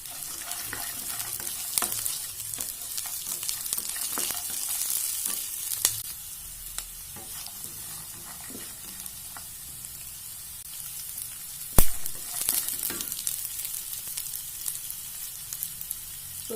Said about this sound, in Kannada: ಈಗ ಶೇಂಗಾ ಬೀಜ ಹಾಕೊಳ್ಳೋಣ.